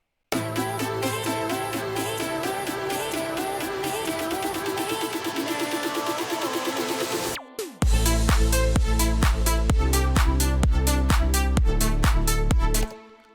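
A full electronic music mix played back in mono: dense synth chords and melody over steady beats, then a brief cut before a heavier section with booming bass and punchy drums, loud and continuous throughout.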